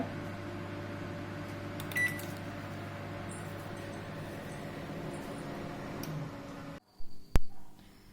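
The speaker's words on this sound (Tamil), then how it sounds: "கன்வெக்ஷன் மோடில் 200 டிகிரியில் வச்சுக்கோங்க" Convection oven running at 200 degrees while baking an apple pie, a steady low mechanical hum with a faint tick, cutting out near the end followed by a sharp beep and a few clunks.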